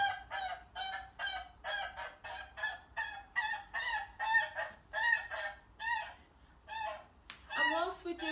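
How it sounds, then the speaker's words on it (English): A flock of geese honks repeatedly in loud, overlapping bursts, nasal calls tumbling over one another close by, with a brief rustle near the end. "we've also got some sounds of the geese"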